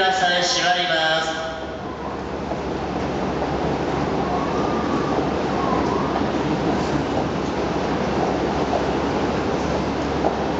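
An Odakyu 4000 series train departs Otemachi station on the Chiyoda Line, a steady underground rumble with a brief tonal warning or horn at the start, then continuous rolling noise.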